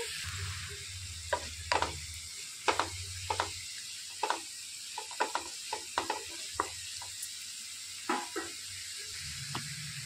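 Salted onions fry in a pan for a dhaba-style spicy capsicum egg fry, giving a soft continuous sizzle broken by frequent sharp clicks and scrapes of stirring, with no talking.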